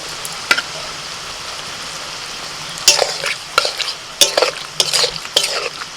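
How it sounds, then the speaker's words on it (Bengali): Milk cream (malai) going into softened onions in a pan and being stirred, giving soft scraping stir strokes with a few sharper clinks of a spoon against the pan, close up with no talk. "পেঁয়াজটা একটু নরম হয়ে গেছে এখন দিয়ে দিচ্ছি দুধের মালাই"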